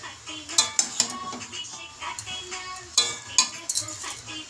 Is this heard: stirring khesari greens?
yes